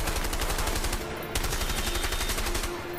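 Rapid bursts of gunfire ring out in the video game A Way Out, a loud, steady stream of shots with a brief pause near the middle, then continuous firing again.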